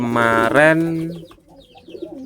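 A bandangan pigeon coos nearby, a deep throaty rolling call followed by quieter fluttering coos, loud and close.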